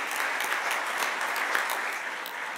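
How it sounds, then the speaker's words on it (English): Steady applause from a seminar audience, a dense, even patter of clapping that holds at moderate loudness throughout without breaks. "we give another round of applause to wake everybody up"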